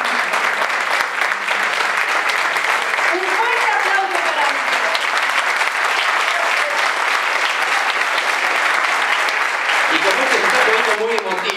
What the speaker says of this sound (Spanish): a que les damos un aplauso